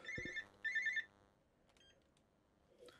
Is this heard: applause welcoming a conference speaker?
no